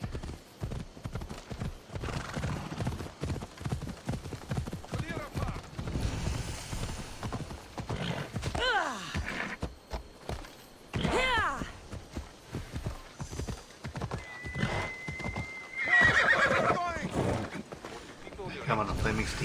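A flaming steed in the video game Assassin's Creed Odyssey clip-clops at a steady trot with a whinny along the way, hooves loud and close while a person talks over them.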